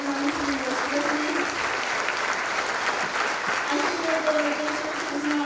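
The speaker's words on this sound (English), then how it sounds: "if you could give them a round of applause" An audience in a school setting applauds throughout with sustained, even clapping from many hands, while a voice speaks faintly underneath.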